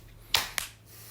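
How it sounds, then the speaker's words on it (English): One sharp hand clap rings out close and crisp, followed by a second quicker clap, each with a brief room reflection in an otherwise quiet space. "Let's just do another sync clap"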